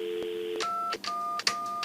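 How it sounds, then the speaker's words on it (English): Telephone keypad tones dialing 211, a short run of distinct electronic beeps with brief gaps between them, close and clear, with no voices. "Aside from dialing 211 to get help, you can also call to give help"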